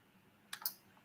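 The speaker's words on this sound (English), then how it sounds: "All right, I'm typing the letters." A few quick keyboard keystrokes tapped out in a short burst of two or three clicks, close and fairly quiet against a faint room background.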